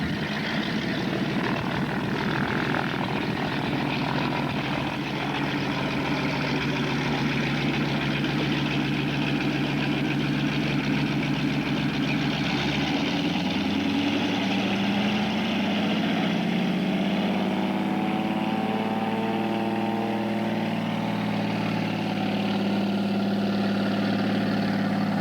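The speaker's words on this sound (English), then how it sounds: "Good old de Havilland Beaver on floats." A de Havilland Beaver on floats idles its radial engine with a steady rumble, then the propeller note rises and shifts in pitch as the floatplane powers up and pulls away, loud and continuous throughout.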